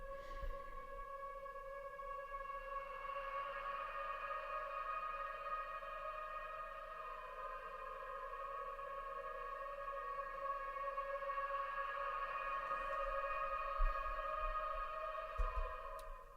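A sustained, hollow tonal drone of a processed vocal effect with stacked steady pitches hangs for a long stretch, washed in reverb, with a faint low thump near the end.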